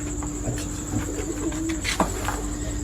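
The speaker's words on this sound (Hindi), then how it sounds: "ये कितना कबूतर है" Pigeons coo softly and close by, low throaty calls repeating over a steady background hum.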